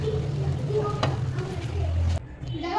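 Mutton chops fry in oil with a moderate, close sizzle over a low steady hum, with a few utensil taps before the sound cuts off sharply near the end.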